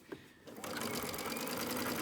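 A sewing machine top stitches the edge of a fabric face mask, a steady continuous whir running close and loud after a brief start, without pauses.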